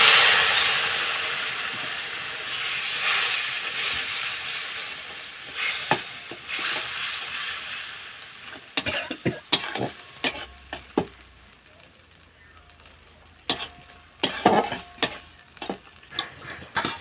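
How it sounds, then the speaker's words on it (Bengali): Spice-paste water poured into hot masala frying for a Bengali fish curry: a loud, close sizzle that gradually fades, followed by scattered sharp ticks and spoon clatters of stirring against the pan, with no talk. "বাটা মশলার জল, এই জলটা আমি এতে দিয়ে দিই।"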